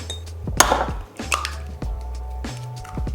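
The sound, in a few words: cracking eggs for pistachio cake batter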